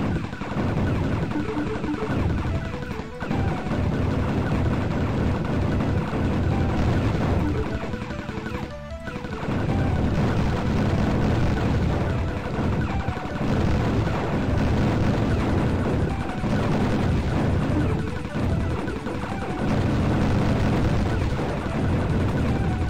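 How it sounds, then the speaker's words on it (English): Loud, dense combat in the MS-DOS shoot 'em up Tyrian: continuous blasts and crashing explosions layered over driving music, with a brief dip before the barrage resumes. "good explosions in this game, which is important for a shoot 'em up"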